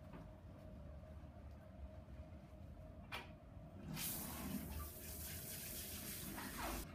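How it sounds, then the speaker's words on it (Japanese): Running water rinses colour-treated hair at a salon basin, a steady rushing hiss that grows louder and fuller midway as the flow strengthens, close and without talk. "今こうやって軽く流してます"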